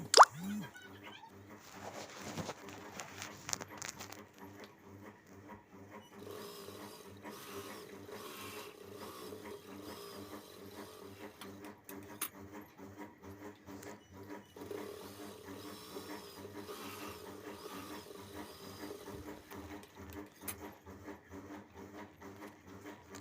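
A sewing machine stitches old cloth into a floor mat, giving a faint, rapid rhythmic clatter of the needle mechanism with a few soft knocks and handling sounds around it.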